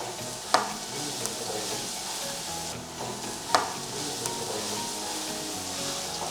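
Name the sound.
bottle gourd pieces frying in oil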